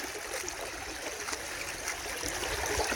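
Water trickles steadily in a stream while someone digs in the bed, a close, continuous babbling with no talk.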